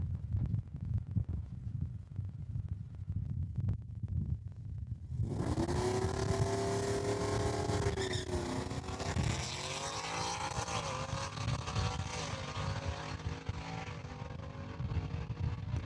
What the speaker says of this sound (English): Fourth gear by the time he hit the eighth. 693 at 104 miles an hour for Mr. Urenko.